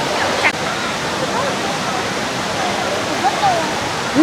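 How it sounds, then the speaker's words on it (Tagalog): Taytay Falls in Laguna pours with a steady, full rush of water that fills the whole clip, with brief faint voices over the constant roar. "Ayan mga tol, yun yung falls."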